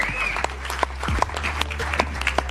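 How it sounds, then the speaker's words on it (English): Applause at a casual MMA banter show, scattered claps over a low steady hum, with a few sharper individual claps standing out and faint voices mixed in. "Can we give a round of applause for Bilal?"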